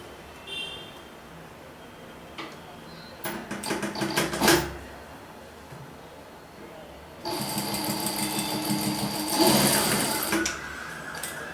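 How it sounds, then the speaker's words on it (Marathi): Sewing machine stitches the side seam of a pair of shorts: a few short bursts of rapid mechanical clatter, then a longer steady run of stitching close by, with some handling noises between. "साईडला शिवून घेणार आहोत"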